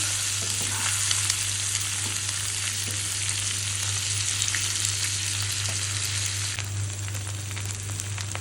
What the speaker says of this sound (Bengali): এখন ডিমগুলো ভালো করে ভেজে নেব নেড়ে করে।